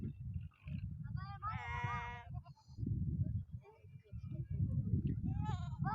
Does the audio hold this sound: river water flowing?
no